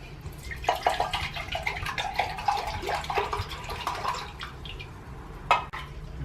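Vinegar poured into a measuring cup for making beer pickles, a steady close liquid splash and trickle with small drips that ends in a sharp clink near the end.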